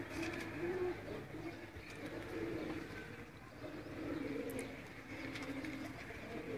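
Pigeons in a loft in Sialkot coo softly and repeatedly, low warbling calls rising and falling over a continuous murmur of flock and yard noise, with a faint car in the background.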